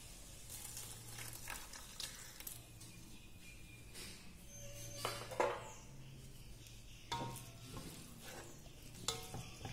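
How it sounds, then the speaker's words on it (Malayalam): Coconut milk with tomatoes simmers in a pan for fish pollichathu, a soft, faint bubbling sizzle broken by a few clinks and scrapes of a utensil against the pan. "അങ്ങനെ പാല് കിടന്നത് വെന്ത് തിളച്ച് വറ്റണം."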